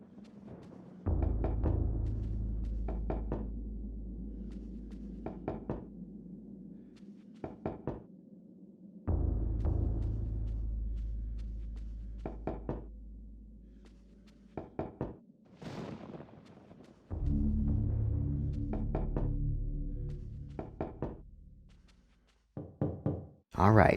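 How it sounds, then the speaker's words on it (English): Knocking on a wine cask in the video game Eternal Darkness: several groups of hollow wooden thuds, each a quick run of knocks, repeating close and loud, alone with no talk. "knocking on the cask results in a hollow thud"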